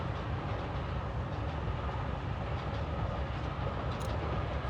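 A train rumbles in steadily in the video game Forgotton Anne, a continuous close, heavy rolling roar with faint rhythmic clatter and no voices.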